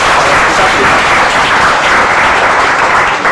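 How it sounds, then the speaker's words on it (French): An audience applauds at an actors' certificate ceremony in Togo, with steady, loud, continuous clapping that fills the whole stretch. "applaudissez-le pour moi"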